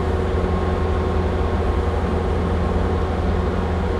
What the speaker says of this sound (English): we're going to go ahead and start by lifting the main boom up